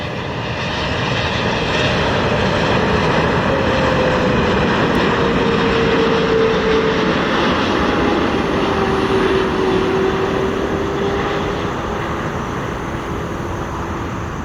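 A Boeing 777 airliner inbound from Dubai passes at Chicago O'Hare, a loud sustained jet engine roar that swells and holds steady, close by with no talk.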